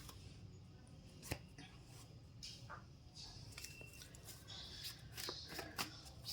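Tarot cards shuffled in the hands for a reading, a soft continuous riffling patter with a few sharper card slaps, quiet and close over a low background hum.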